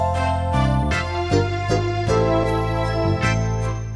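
A keyboard plays a slow Soul Ballad style pattern of sustained chords with a steady pulse and bass, full and close with no voices.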